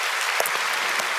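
A church congregation at a Friday night service breaks into brief, dense clapping, loud and continuous across the whole moment with no speech on top.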